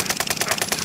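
Rapid automatic gunfire in Call of Duty Warzone, a steady stream of evenly spaced shots about ten per second, loud and close with no talk over it.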